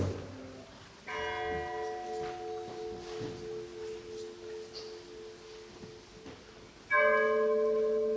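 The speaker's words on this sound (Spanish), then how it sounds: "¿Oyes? Las campanas doblan." Church bells toll slowly in a quiet outdoor setting, their ringing sustaining and fading before another loud strike near the end, during a night reading event in San Leonardo.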